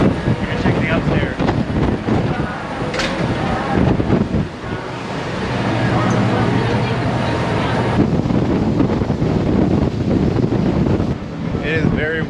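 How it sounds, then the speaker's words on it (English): Strong wind at Fort Jefferson, Dry Tortugas, buffets the microphone in loud, continuous gusts, mixed with surf and water noise, with a voice faintly present in the background. "It is very windy out here."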